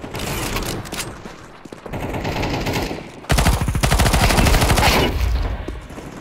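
Rapid automatic gunfire from a Counter-Strike 2 deathmatch on Dust 2 rattles in dense bursts, the loudest sustained volley in the second half and a brief pause in between, close and punchy.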